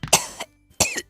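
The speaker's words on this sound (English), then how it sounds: "Literally only coughing for a straight minute on our video." Someone coughs twice in short bursts, close and fairly quiet, with a brief silent gap between the harsh throaty coughs and another starting at the end.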